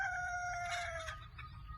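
Free-range hens perched on a farm vehicle near a sweet lime orchard give a brief rising fowl call lasting about a second, followed by quieter rustling, over a steady low outdoor rumble.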